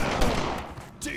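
Gunfire in the LA Cops video game: a couple of quick, punchy shots in a brief burst, close and fairly loud.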